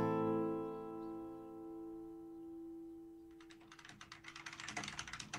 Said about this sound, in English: He's got that mechanical keyboard that makes a lot of everybody clackering